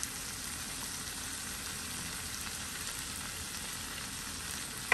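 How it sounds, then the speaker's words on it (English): Seafood alfredo sauce with shrimp and crabmeat simmering in a pan, a constant fine bubbling hiss, even and close, with a small knock at the very end and no speech. "Y'all see I got my sauce back here simmering."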